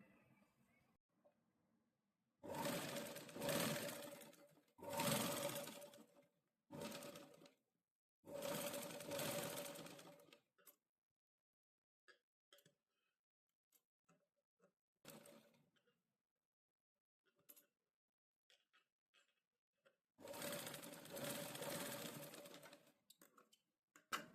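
A sewing machine stitching the neckline of a princess-cut garment runs in several rapid mechanical bursts of a few seconds each, separated by quiet pauses with small clicks and handling sounds.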